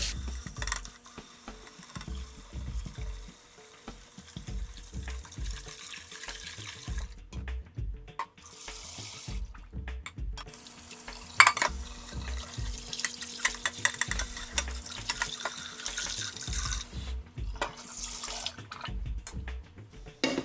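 Tap water runs steadily into a sink as a ramen pot is rinsed and scrubbed, with intermittent splashing and scraping knocks, close and moderately loud.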